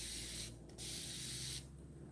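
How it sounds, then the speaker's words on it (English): A spray bottle mists water onto hair during detangling, giving two close, steady hissing spritzes, one brief and one longer, separated by a short pause. "Spray with water."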